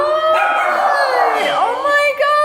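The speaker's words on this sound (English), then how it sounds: "Okay, the dogs are really excited." Several excited dogs howl and yip close by in long rising and falling wails, with a person's voice mixed in.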